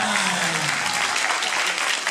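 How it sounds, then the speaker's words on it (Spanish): Audience applause at a radio singing-contest finale, loud and dense throughout, with steady crowd clapping and no voices heard. "y fuerte el aplauso"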